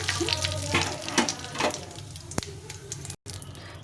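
Whole cumin seeds fry in hot oil as a tempering for a cauliflower, pea and paneer curry, a dense close sizzle with sharp pops and a few clinks of stirring.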